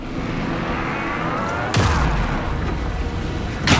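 Gunfire during a firefight in the video game Alan Wake 2, with two sharp loud bursts standing out over a continuous noisy combat backdrop.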